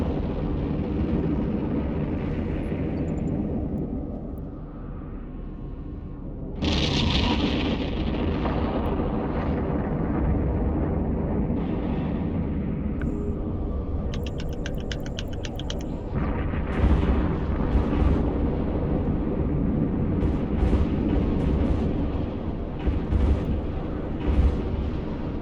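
Missile launches against ships in EVE Online, deep rumbling engine drone with a sharp surge partway through and bursts of crackling, booming fire layered over a continuous low roar.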